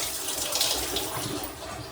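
Water runs steadily from a tap into a tub while the water is being changed, a constant rushing splash throughout at moderate loudness.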